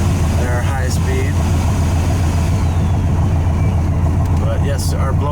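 A 1967 Corvette coupe's 427 cubic-inch L71 Tri Power V8 rumbles steadily inside the car, a constant low drone with a blower motor whirring and faint sounds over it.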